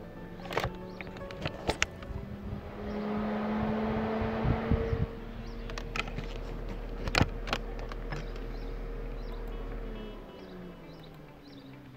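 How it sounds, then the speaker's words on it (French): A car's radiator cooling fan, switched on through a Delphi diagnostic tool, whirs steadily in a workshop, with clicks and brief knocks scattered over the hum. "c'est pour tester le ventilateur"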